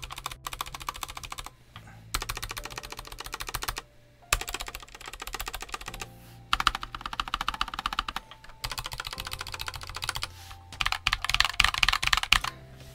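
Rapid typing on a Redragon K622 Horus low-profile, hot-swappable TKL mechanical keyboard: quick clacking keystrokes in bursts separated by short pauses, close and fairly quiet, with no talking.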